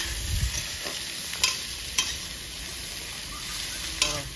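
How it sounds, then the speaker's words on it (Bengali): Chopped onions sizzle in hot oil with bay leaves, dried red chillies and whole cumin in a pan for village-style cooking, a steady frying hiss broken by a few sharp stirring scrapes, close and without talk. "বন্ধুরা কেটে রাখা পেঁয়াজ দিয়ে দেবো।"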